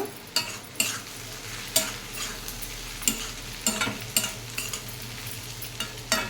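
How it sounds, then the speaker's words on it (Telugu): Masala pieces frying in oil in a pan, a steady close sizzle broken by repeated scraping stirs at a loose, uneven rhythm, with no voices. "ఇంకా కొంచెంసేపు మసాలా పలుకులు వేపుకుంటున్నాను, ఆయిల్ వేసి కొద్దిగా"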